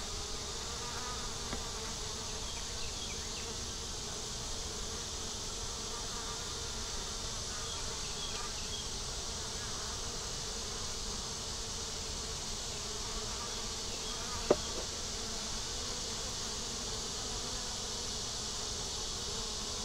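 Honey bees buzz steadily around an opened hive showing brood and wax moth damage on a hot day, a continuous close insect drone with one brief sharp click partway through.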